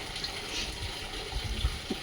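Collected rainwater filling from a pipe, a steady, soft gushing and trickling flow that stays continuous and fairly quiet throughout.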